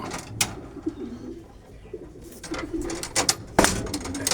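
Racing pigeons in a small loft give soft intermittent coos with some wing flutters and light mechanical rattles, close by and moderately quiet.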